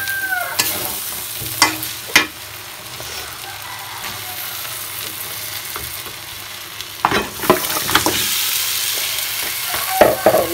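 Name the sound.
beef trotters added to spiced masala, sizzling and stirring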